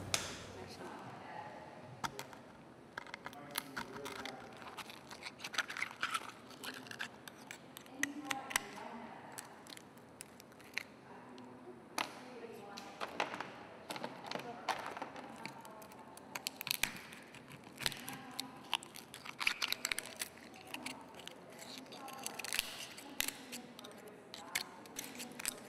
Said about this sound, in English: learn how to open Virginia's oysters